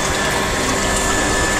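Water gushing steadily into a collecting tank on an orifice plate test rig, a loud, continuous broadband rush with no pauses and no voices.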